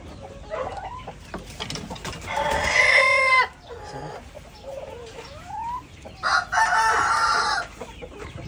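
Brown egger roosters crow loudly and close inside a coop, two long crows a few seconds apart, with hens clucking softly in between.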